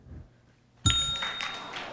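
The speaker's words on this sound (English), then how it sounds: "We hear the bell" A single bell dings sharply at a 1997 spelling bee to mark a wrong spelling, a bright metallic strike that rings on and slowly fades over a quiet room.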